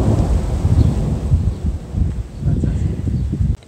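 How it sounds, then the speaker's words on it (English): Thunder rumbles low and heavy in the Pyrenees mountains, a rolling, fairly loud boom with rain and wind noise mixed in outdoors, and faint voices in the background. "right now there's some thunder rolling in"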